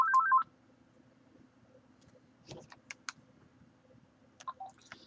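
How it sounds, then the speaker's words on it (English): Telephone keypad tones beep in a quick burst of several short dialing notes, clear and close, followed by quiet with scattered clicks and taps. "Okay, that phone call is not from me."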